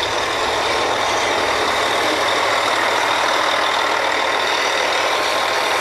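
Two mud pumps running on an oil drilling rig make a loud, dense, unbroken mechanical roar with a steady low hum beneath it, constant in level throughout.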